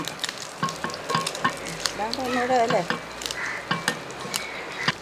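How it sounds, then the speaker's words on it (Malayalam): Grated coconut being stirred into fried squid in a pan, with a loud continuous sizzle of frying under repeated scraping and clinking strokes of a spatula, and a voice briefly heard in the middle. "ആ തേങ്ങാപ്പീര ഇട്ട് ഒന്ന് മിക്സ് ചെയ്തെടുക്കുക"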